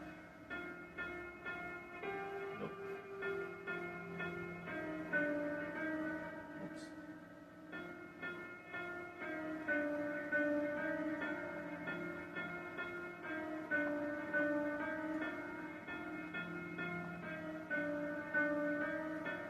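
Piano chords repeat in a steady, even rhythm, each sustained and ringing into the next, with the pattern shifting slightly as it goes.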